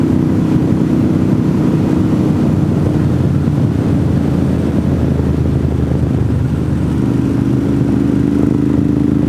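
A loud, steady motorcycle engine drones continuously at cruising speed on Old 64 and Old Murphy Road in western North Carolina, its low rumble holding close and even throughout.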